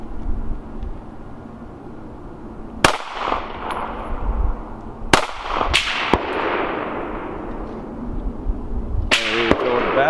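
A Taurus G3C pistol firing S&B ammunition, with five sharp, loud shots in uneven spacing, two of them fired in quick succession, each ringing out against a quiet outdoor background.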